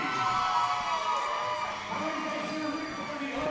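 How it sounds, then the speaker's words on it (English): A roller derby crowd at a 2012 North Region playoff bout between Windy City Rollers and Ohio Roller Girls makes a dense, continuous roar of cheering and shouting that holds at an even level throughout. "The crowd very much into this one"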